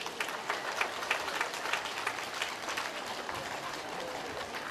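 A crowd at an elementary school sports day applauds, a fairly faint, even patter of many hands heard from a distance and continuing steadily.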